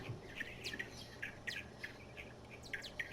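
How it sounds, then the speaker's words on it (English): Several birds chirp in short, bright calls scattered across a quiet setting, with a faint low hum underneath and no voices. "I hear birds"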